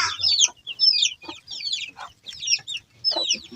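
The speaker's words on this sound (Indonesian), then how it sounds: "eta mah kotok" A chicken clucks in a rapid, uneven series of short calls, close and fairly loud, with no talking over it.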